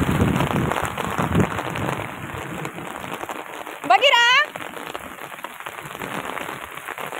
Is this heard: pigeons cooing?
no